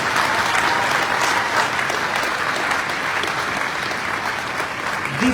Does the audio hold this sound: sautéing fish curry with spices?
no